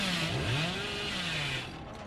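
A chainsaw cuts in a horror video game, a loud, buzzing, close engine whine that rises and falls in pitch, then fades slightly at the end.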